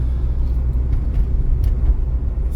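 A car driving a driving-test route in Vinnytsia: a steady, close interior rumble of engine and road noise holds throughout, with no voices.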